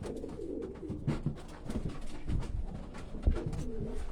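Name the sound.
pigeons cooing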